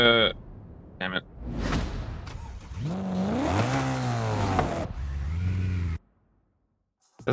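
A BMW Z4 engine revving in Forza Horizon 5, rising and falling in pitch through several sustained pulls before cutting off into near silence, loud and close.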